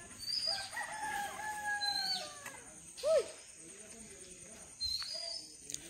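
Chickens in the distance, eating fallen rice in a harvested paddy field, make short calls and clucks over a constant hum of insects, with one louder cry near the middle.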